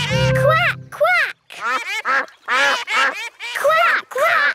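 Cartoon duck quacking in Peppa Pig, a series of loud nasal quacks in quick bursts, likely voiced by a person imitating the calls, over a soft musical background.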